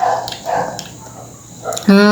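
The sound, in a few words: dog barking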